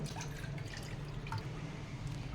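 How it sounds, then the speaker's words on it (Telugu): Water poured onto jaggery while making Ugadi pachadi, heard as a soft, continuous trickle with light drips, close and fairly quiet. "ఇప్పుడు ఇది నీట్ పోసుకోవాలి"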